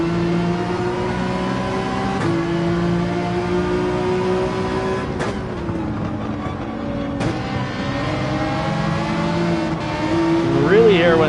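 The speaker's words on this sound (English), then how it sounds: "A lovely sound that car makes. Flat plane crank V8." A flat-plane crank V8 race car engine in the Gran Turismo 7 video game drones in a high, steady tone at Willow Springs, with occasional gear-shift breaks and throttle changes, while a voice talks over it.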